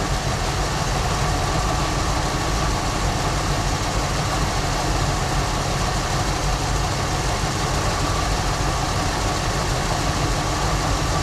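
A 1974 Ford Bronco engine idles steadily and loudly up close after its first start in over 16 years, a constant low rumbling chug that never changes pace.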